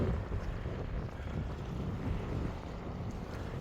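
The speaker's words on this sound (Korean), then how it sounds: "바람이 너무 많이 부네" Strong wind blows at a breakwater on a Busan fishing spot, a steady low roar of gusts buffeting the microphone throughout, close and unbroken, with no voices.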